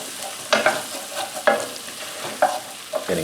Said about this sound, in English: Stir these around.